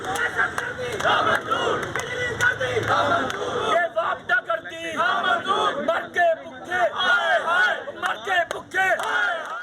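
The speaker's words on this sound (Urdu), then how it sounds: "مظاہرین نے حکومت کے خلاف شدید نعرے بازی کی۔" Protesters on College Road in Township, Lahore, loudly chant slogans against the government over inflation, electricity prices and load shedding, with rhythmic crowd shouts in call-and-response bursts.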